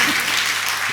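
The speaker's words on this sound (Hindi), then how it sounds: "ताली बजा लो अपने लिए।" An audience at a youth religious talk breaks into applause, a brief burst of dense clapping heard close and fairly loud.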